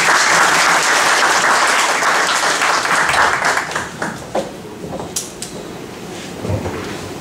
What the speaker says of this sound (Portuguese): Peço uma salva de palmas para o coronel.